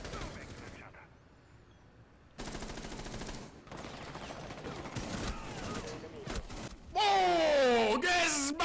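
Rapid bursts of gunfire in Rainbow Six Siege, with repeated loud shots and automatic fire crackling over ongoing game sounds, while players talk excitedly across the action.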